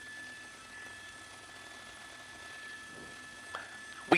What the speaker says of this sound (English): The helicopter's still overhead, and those sheriff deputies trying desperately to catch up.